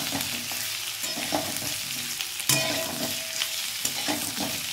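Potato and turnip pieces fry in a pan over high gas, a steady close sizzle with soft scraping stirs and a few sharper clinks of the spatula throughout.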